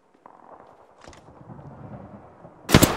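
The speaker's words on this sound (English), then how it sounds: "Shot fired, and they're hitting me." Sharp burst of gunfire erupts near the end of a match in the battle royale video game Apex Legends, loud and close after a stretch of quieter rumbling game ambience.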